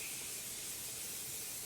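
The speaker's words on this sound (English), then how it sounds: "I just love how it sprays out like hairspray" Morphe Continuous Setting Mist sprays in one steady, fine, hissing burst, close and unbroken for nearly two seconds.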